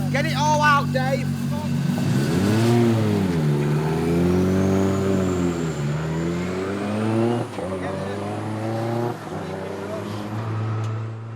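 A 600bhp Mazda MX5 time attack race car accelerates hard on a circuit, its engine note rising and falling through gear changes, loud and close, with a voice talking over the engine.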